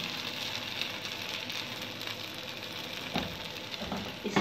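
Rice flour pancake frying in a pan, a steady sizzle with soft crackle and a few louder spatters near the end, alone without talk.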